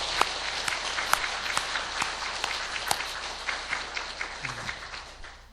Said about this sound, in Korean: 감사의 인사를 박수로 우리 모두에게 서로 같이 드리겠습니다